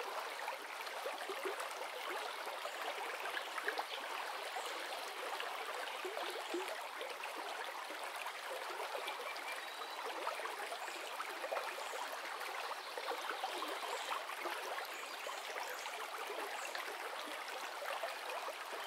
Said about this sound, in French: le doux son de l'eau qui serpente entre les pierres et suit son cours